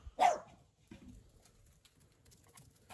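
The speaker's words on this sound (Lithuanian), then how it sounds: "Čia yra mūsų šuo Snygis." A single sharp dog bark rings out near the start, followed by quieter thumps and faint outdoor noises.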